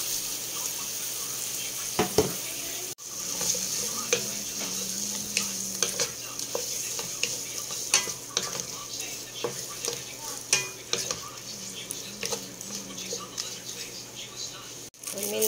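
Head-on shrimp frying in a pan for pancit canton, a steady crackling sizzle with scraping stirs and clinks of a utensil against the pan, close and fairly quiet.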